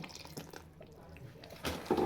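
Water is added from a vessel into a cooking pot of food simmering on a home stove, with a few quiet drips followed by a brief, louder splashing pour at the end.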